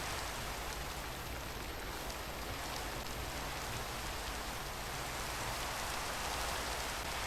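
Steady acid rain falls in Minecraft as a continuous, even hiss of raindrops on surfaces, soft and unbroken with no talking over it.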